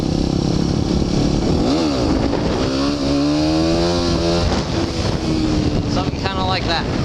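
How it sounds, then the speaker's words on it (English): A motorcycle revs hard up close as the clutch is popped for a wheelie, engine pitch climbing and falling through throttle changes over heavy wind noise. "So you got gas, pop the clutch, and then throttle back onto it."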